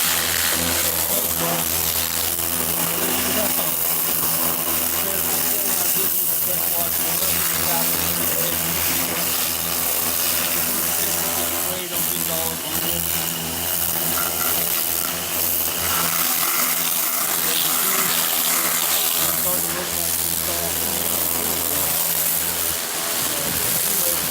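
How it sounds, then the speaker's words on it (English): Pressure washer rinses degreaser and oven cleaner off a car engine and wheels, a continuous loud spray and pump drone with water gushing over metal, running throughout. "rinse it all off of here"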